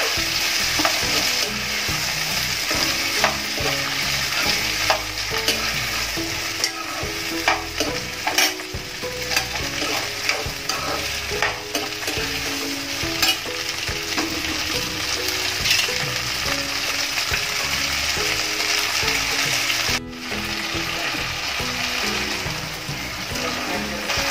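Cluster beans (gavar) sautéing in a pan, a continuous loud sizzle with frequent scraping stirs throughout, no talking.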